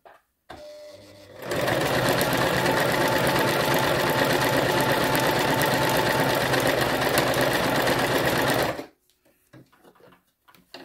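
A Toyota RS2000 sewing machine stitches a decorative pattern on plain fabric, its motor and needle running in a loud, steady, even whir for about seven seconds before stopping into near silence.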